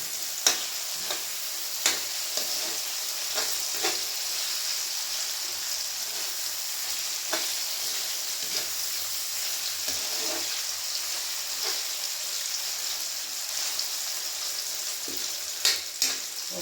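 Tofu frying in a pan with tomatoes gives a steady, close sizzle throughout, with scattered sharp clicks of a utensil against the pan and no speech.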